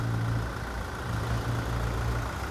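A used 2019 Toyota Hilux Revo Rocco pickup with a 2.4 engine idling, a steady low hum with a continuous rumble, close and alone with no talk.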